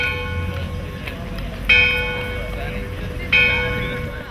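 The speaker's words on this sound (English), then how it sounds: "the midday bell summons teachers and students to their respective courses" Midday bell at Christ's College in Christchurch, New Zealand, struck twice about a second and a half apart, each stroke ringing out and slowly fading over a steady ambient background.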